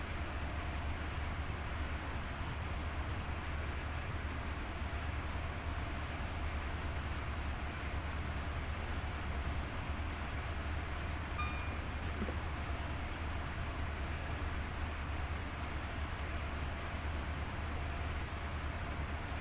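A legendary high-speed train runs in Train Sim World 4 as a continuous, even rumble and rushing roar that holds steady for the whole stretch, with a brief faint tone midway and no voices.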